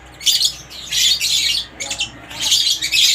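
Several pet parrots chirp and squawk in bright, overlapping bursts close by at feeding time, continuous and fairly loud, with no voices.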